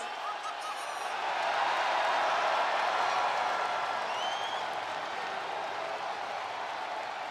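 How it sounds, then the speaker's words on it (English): A virtual arena crowd in the WWE 2K24 wrestling game roars in a sustained ovation, a loud, dense wash of cheering that swells early and holds steady throughout, with no clear speech over it. "Listen to this ovation. The WWE Universe loves cheering on the EST."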